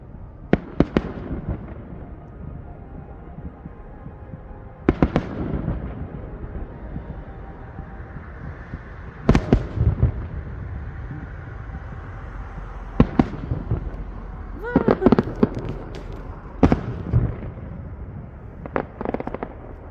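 Fourth of July fireworks burst in sharp, loud bangs spaced several seconds apart, with a tight crackling cluster near the end, each blast followed by a lingering rumble and no speech.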